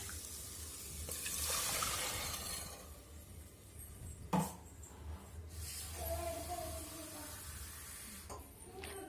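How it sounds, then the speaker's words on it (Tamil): Water splashes and runs steadily into a pot, with a brief clink of metal partway through and faint background noise, while cooking pearl millet porridge. "இது கூட தேவையான அளவுக்கு தண்ணி சேர்த்துக்கலாம்."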